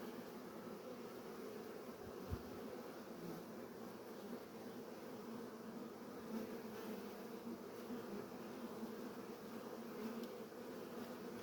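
Asian hornets buzz steadily around a beehive, a continuous insect drone holding near and fairly even throughout, with no voices and one brief knock early on.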